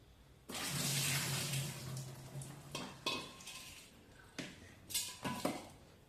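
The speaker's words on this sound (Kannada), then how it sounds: "ಇವನ್ನ ಈಗ ಸ್ವಚ್ಛಂಗೆ ತೊಳ್ಕೊಂಡು ಇಟ್ಕೋಬೇಕು ನೋಡ್ರಿ" Soaked bitter gourd pieces washed by hand in a metal vessel of water in a home kitchen: a long rushing splash at the start, then several short clattering knocks of vessel and water, close and fairly loud, with no talk.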